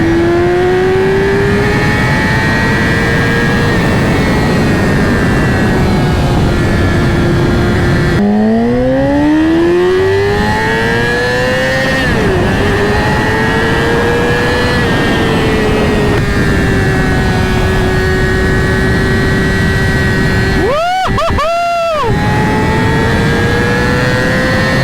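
A 2020 Yamaha R6 sport motorcycle fitted with a LeoVince Factory S exhaust roars loudly and steadily, its engine pitch climbing and falling through revs and gear shifts, with a sharp burst of throttle blips near the end.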